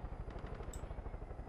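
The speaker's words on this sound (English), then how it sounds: "They actually sent a helicopter after us." Rapid rhythmic thudding of helicopter rotor blades in the video game Far Cry 5, a steady low chop that holds at an even level throughout.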